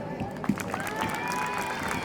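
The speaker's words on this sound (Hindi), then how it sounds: "ये तालियां नहीं रुकनी चाहिए जब तो स्टेज पे नहीं पहुंचते हैं।" Audience applause fills the hall at a school alumni meet as someone walks toward the stage: steady dense clapping with a crowd murmur, moderately loud and continuous throughout.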